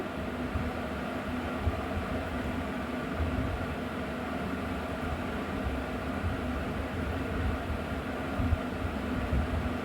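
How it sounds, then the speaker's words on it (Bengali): Shrimp sizzling lightly in hot oil for chingri malaikari, a steady dense crackle and hiss throughout with no talk. "তো আমি মাছগুলোকে হালকা করে ভেজে নেব"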